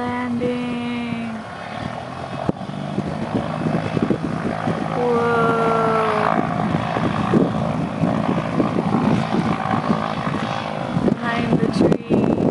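The propellers of a Goodyear blimp drone as it comes in to land near Pompano Beach, Florida, a steady engine buzz with shifting tones. People talk over it nearby.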